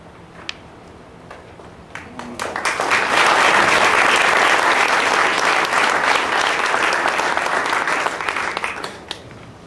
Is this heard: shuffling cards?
no